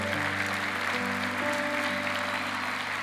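A congregation at a Spanish-language church service applauds the Lord, with steady, dense clapping over sustained organ or keyboard tones, held loud and even throughout.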